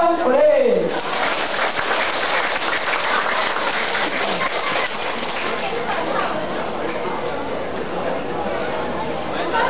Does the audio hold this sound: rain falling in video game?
no